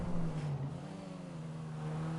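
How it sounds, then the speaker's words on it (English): A car engine in GTA Online, from the Cunning Stunts update, holds a steady low drone with a slight pitch dip partway through, then settles, moderately quiet, with no voices. "listen to the engine. It actually sounds really nice."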